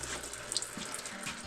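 Old oil drips and trickles from a loosened drain plug into a catch pan, a steady light liquid pouring sound with a few small splashy ticks, alone and close.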